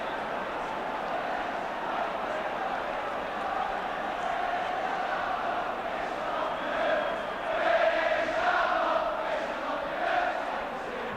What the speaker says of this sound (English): The crowd puts back its cheerful face.